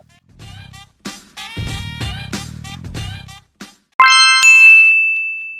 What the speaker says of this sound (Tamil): ஏன்னா சேம் டைம் நோட்டிஃபிகேஷன் வந்திருக்கு